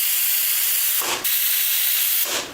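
A pressure cooker whistles over a constant steam hiss while chicken biryani cooks, with two short sharp blasts about a second apart, loud and close.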